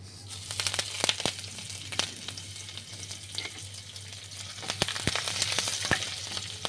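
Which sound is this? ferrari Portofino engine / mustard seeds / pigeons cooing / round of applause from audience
mustard seeds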